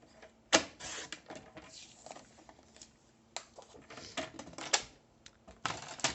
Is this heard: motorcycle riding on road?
no